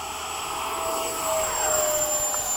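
An FMS Hawk 80mm ducted-fan RC jet at takeoff gives a steady, loud, high-pitched turbine-like whine with a rushing roar that swells slightly midway. The sound is continuous and close, with no voices.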